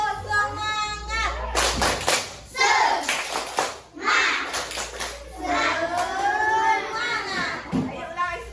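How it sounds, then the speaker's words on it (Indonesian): A classroom of children clapping the rhythmic 'tepuk semangat' spirit clap, bursts of sharp claps trading off with chanting voices of the kids and a teacher. "Udah yuk, tepuk semangat."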